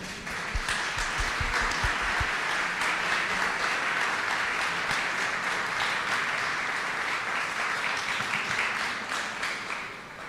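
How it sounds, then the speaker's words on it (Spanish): An audience at an academic talk on health inequality and traditional midwives breaks into strong, sustained applause, dense steady clapping that fills the whole stretch and tapers only slightly at the end. "para quien pido un fuerte aplauso"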